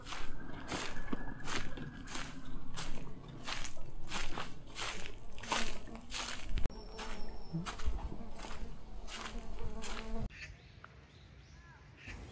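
Insects buzzing and whining in a dense bamboo grove beside a park's main gate, mosquitoes among them, a steady high drone with repeated footsteps crunching along a path, fading quieter near the end.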